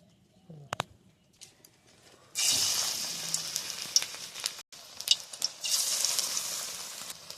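Pui leaf fritters sizzling in oil in a large wok over a wood-fired stove, a sudden burst of frying hiss after a quiet start with faint bird calls, then steady crackling and popping.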